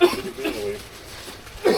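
A cyclist on a cold, foggy gravel ride gives a couple of short coughs, one at the start and another near the end, fairly close and moderately loud, with faint wind and road noise between.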